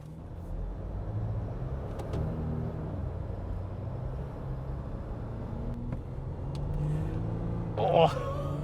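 Ford Ranger Super Duty and Toyota LandCruiser 70 accelerate side by side in a drag race, a steady low engine rumble and drone from inside the cab, swelling slightly near the end with a brief sharper burst.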